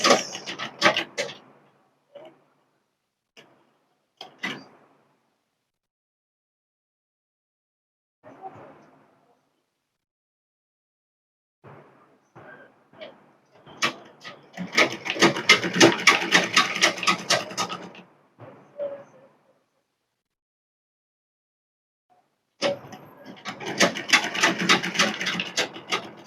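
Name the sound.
sewing machine stitching a bias bound seam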